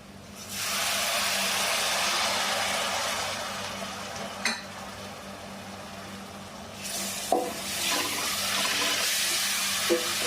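Water goes into a pan of spiced beef cooked with turmeric, garam masala, cumin and coriander powders, setting off a loud, steady hiss that runs nearly throughout, with a fresh surge of sizzling near the end and a few sharp clinks.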